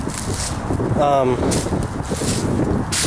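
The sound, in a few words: wind blowing on microphone outdoors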